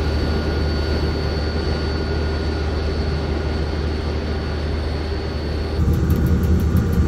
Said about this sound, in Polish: ten dźwięk silnika. Piękny jest, nie?